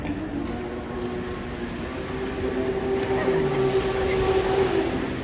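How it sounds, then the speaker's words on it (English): The engine of a JetSurf motorized surfboard hums steadily at a Toronto boat show, a continuous close drone with a faint tonal whine that rises slightly toward the end. "So you can just hear that little hum of the engine."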